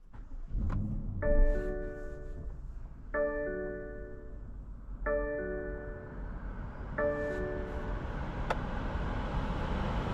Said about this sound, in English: Today we're going for a drive in this 2020 BMW X7 M50i